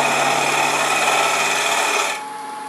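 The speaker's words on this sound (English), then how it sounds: "I'm going to use a small spindle gouge. And I'm going to go straight in." A small spindle gouge cuts into wood turning on a lathe, giving a steady, loud, tonal shaving hiss that holds for about two seconds and then drops to a quieter hum of the lathe.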